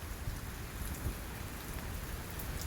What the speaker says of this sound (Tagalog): bigla na lang bubuhos ang ulan ayan